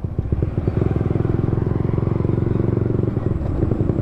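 A Honda Supra motorcycle fitted with a Daytona racing exhaust idles close by, giving a steady, fast-pulsing low throb that runs without pause and with no talk.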